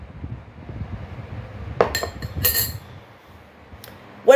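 A glass clinks a few times, sharp and close, with brief bright chinks against a quiet low background while someone drinks an onion drink.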